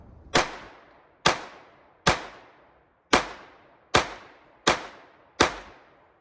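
A Zastava M70 pistol fires aluminum-cased .32 ACP rounds, seven sharp, loud cracks spaced roughly evenly under a second apart, each ringing out briefly before fading into quiet.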